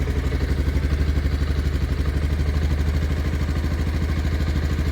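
Bajaj Pulsar 220F motorcycle engine running steadily close by, a loud, even low throb with rapid rhythmic pulsing and no break.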